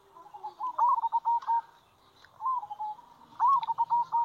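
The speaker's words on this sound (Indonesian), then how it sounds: "Anda lihat video perkutut ini dulu" A perkutut, or zebra dove, coos from a playing recording in repeated bursts of soft, rolling, trilled notes, mid-distance and clear, with a short pause between phrases.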